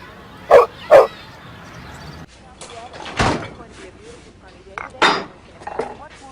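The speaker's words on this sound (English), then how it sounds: "Look at the cute dog." A dog barks twice in quick succession nearby, followed by softer yips and whimpers amid room noise, a door sound and voices talking.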